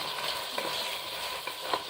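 Onion, garlic and ginger paste fry in hot oil, a soft, steady sizzle with a few light stirring scrapes, fairly quiet and close with no talking.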